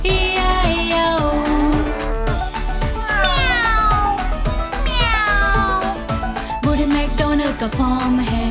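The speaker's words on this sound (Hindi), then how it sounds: "और उसके फॉर्म में बिल्ली है E-I-O" Cartoon cat meows sung within a Hindi version of the nursery rhyme Old MacDonald, repeated pitched meow calls over bouncy children's music with singing voices throughout.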